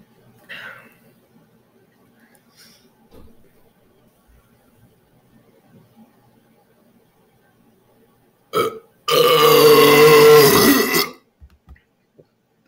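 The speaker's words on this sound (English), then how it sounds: "And that's the loudest burp." After a quiet stretch with a few small noises, a single loud, long, croaking burp after drinking cola erupts close to the microphone, lasting about two seconds.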